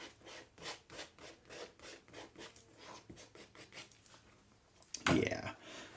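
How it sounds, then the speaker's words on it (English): Paint is scraped away from an abstract painting in a run of rhythmic rubbing strokes, close and soft, ending in one sharper, louder scrape. "now I'm going to scrape, I think, a little of this away"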